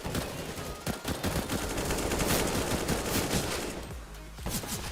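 Fully automatic CZ-75 pistol fire in CS:GO, a fast, sustained rattle of gunshots that is loud and close, continuing throughout with no voices.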